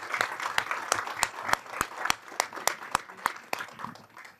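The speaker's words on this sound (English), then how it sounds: "let's have a very significant round of applause for all of our presenters" A small crowd at a conference claps steadily for the presenters, sharp individual claps standing out over a soft wash of applause, no talking.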